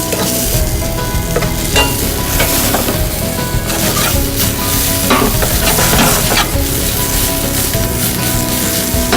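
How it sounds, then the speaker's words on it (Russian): Vegetables frying in a generous amount of oil in a pan while being stirred, a loud steady sizzle with repeated scraping stirs throughout, no voices. "Мы их немного обжарим и потом добавим немного воды"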